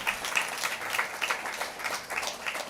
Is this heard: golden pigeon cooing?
no